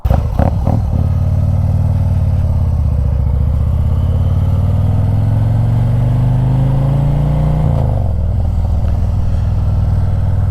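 A Harley-Davidson motorcycle's deep exhaust rumbles loudly and steadily, its pitch slowly climbing as the engine revs up, then dropping back with a gear change.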